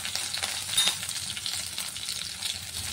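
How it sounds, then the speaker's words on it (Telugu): Mustard seeds, cumin and chopped green chillies sizzle in hot oil, a dense steady hiss with faint crackling pops, brief and close. "ఆయిల్ కాస్త హీట్ అయిన తర్వాత ఇందులో కొద్దిగా ఆవాలు, కొంచెం జీలకర్ర, అలాగే కట్ చేసి పెట్టుకున్న పచ్చిమిర్చి,"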